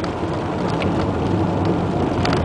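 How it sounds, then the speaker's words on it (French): Steady rain noise heard from inside a car being driven through Paris on a wet road, a continuous loud wash of hiss and rumble with no talking. "Alors attention, là il pleut, donc ça glisse"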